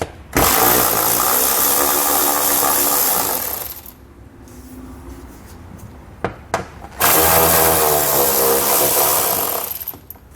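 A power tool fitted with a socket runs in two long, loud whirring bursts while removing heat shield nuts on a 2020 Jeep Compass, with a short quieter gap of faint clicks between them.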